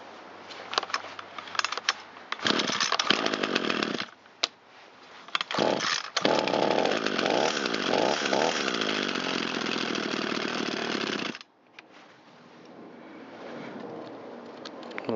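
A long-unused Echo SRM225 string trimmer's two-stroke engine pulls and catches, then screams at full throttle in loud sustained bursts that drop back to a rough idle between them.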